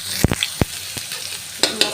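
Chopped onion hits hot oil in a wok and sizzles steadily, with several sharp scraping knocks of a spatula against the pan, loud and close.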